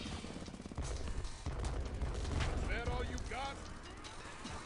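Rapid Gatling guns and booming cannons fire in the tower-defense video game OTTTD, a steady clattering barrage with a few rising whistles over it and speech on top throughout.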